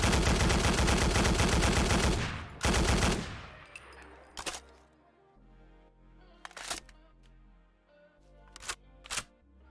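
Huot Automatic Rifle in a video game weapon mod fires a loud, rapid burst of automatic shots, then goes quiet for a reload of separate metallic clicks and clacks spaced out over several seconds.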